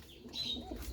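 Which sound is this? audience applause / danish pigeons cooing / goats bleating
danish pigeons cooing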